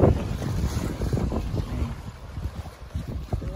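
A southerly wind blows over a river, a steady gusting rush and buffeting with low rumble and faint water movement throughout.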